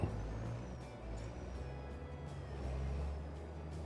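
A big truck in a farming video game rumbles along with a low engine drone and a brief air-brake hiss, the engine tone shifting as it moves, with no talking.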